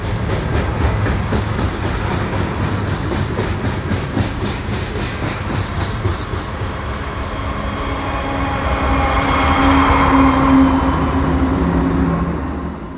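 A CSX coal train with big GE 4400 horsepower locomotives at each end rumbles past in the Blue Ridge Mountains, a steady loud roar of engines and rolling wagons that swells near the end.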